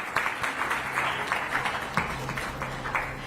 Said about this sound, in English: I believe we can still keep the claps rolling